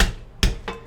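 Three sharp pounding thuds spaced apart, close by, the first and second loudest, with a fading ring after each strike.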